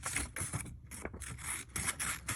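Scissors cutting along the lines of a printed paper letter C activity sheet, a close, quiet run of rapid rasping snips and paper scraping without pause, no talking.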